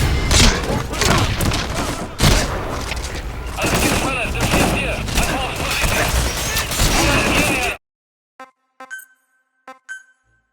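Gunfire in the Metal Gear Solid V: The Phantom Pain video game, a dense, loud fusillade of shots for several seconds, then a few isolated bursts after a sudden cut to near silence.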